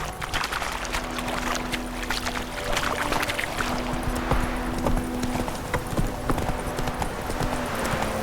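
Steady rhythmic clip-clop of a galloping horse's hooves in The Witcher 3 video game, continuous and fairly close under a faint musical hum, with no talk.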